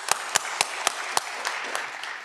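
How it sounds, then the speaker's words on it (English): Sparse applause for graduating Earth and Ocean Sciences seniors at a Tufts commencement, a handful of distinct, separate claps spaced out over two seconds against a faint background wash, sounding thin and somewhat distant. "Big round of applause."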